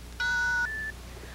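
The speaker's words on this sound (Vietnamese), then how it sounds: "Sau tiếng bíp xin để lại lời nhắn." An answering machine plays a clean electronic beep of about half a second, then a second, softer tone, clear and alone before a voicemail is left.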